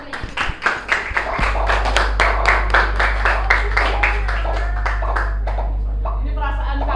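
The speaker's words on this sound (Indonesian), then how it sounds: "Oke, tepuk tangan." A school class claps together in rhythm, with loud, distinct, evenly spaced claps that gradually settle into a steady beat before fading out. A low steady hum runs underneath, and voices are heard near the end.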